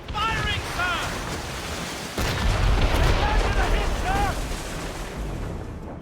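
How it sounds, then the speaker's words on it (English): Ship cannons fire in an Assassin's Creed Rogue naval battle, heavy booming blasts rolling under constant wind and surf, with a crew voice calling out over the din. "They're firing, sir."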